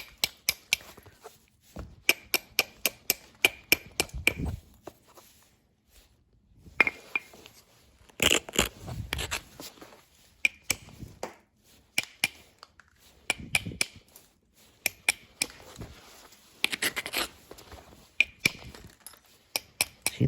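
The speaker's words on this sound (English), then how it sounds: "You can chip thinner edge stuff if you learn to do all this little faceted trimming with a billet" An antler billet strikes a flint edge in rapid bursts of sharp, clicking taps, trimming small flakes, with short pauses between the clusters of close, crisp knocks.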